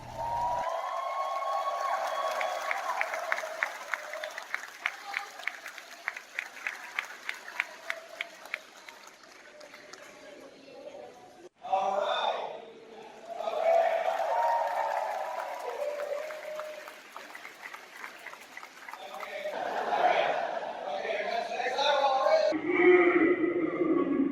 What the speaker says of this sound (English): This crowd is what faces the exhibitors as they open the doors at 10 a.m.